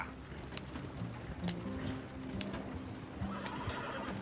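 A horse in the Red Dead Redemption 2 video game whinnies loudly while its hooves clip-clop along a dusty road, with several sharp neighs over a continuous patter of hoofbeats.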